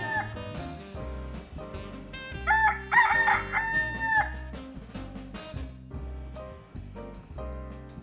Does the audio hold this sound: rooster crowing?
yes